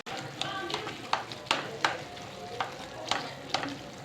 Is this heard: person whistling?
no